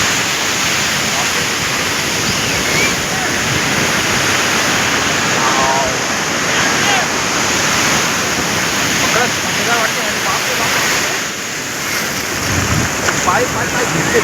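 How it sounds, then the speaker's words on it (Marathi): Rough sea waves break on the shore at Versova beach, Mumbai, in a loud, continuous roaring wash of surf that swells and surges throughout. "समुद्र जाम खवळलेला आहे"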